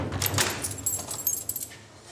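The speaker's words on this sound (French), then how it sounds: "quand vous fermez la porte" A door being closed with keys in a secure unit holding dangerous detainees. A bright metallic jangle of keys runs throughout, mixed with scraping and clicking from the lock and door, fairly close and loud.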